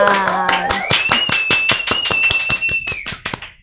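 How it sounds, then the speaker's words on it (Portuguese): Rhythmic claps from a crowd at the Tearteiro seminar, struck in a fast, steady beat, with a sustained whistle-like tone rising and holding over the middle, fading toward the end. "Uma salva de palmas!"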